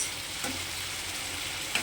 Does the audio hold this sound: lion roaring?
no